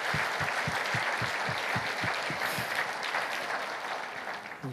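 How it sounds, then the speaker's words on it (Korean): A church congregation claps together after a prayer, a dense, steady wash of applause with a rhythmic beat running through it, sustained throughout and fading slightly at the end. "하나님께 박수로 영광을 올려드립니다."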